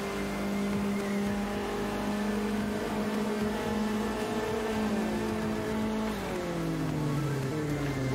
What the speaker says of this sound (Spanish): es un coche antiguo, frena muy mal